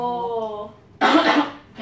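A single sharp, close cough into the upper arm, brief and muffled, following a moment of a voice speaking.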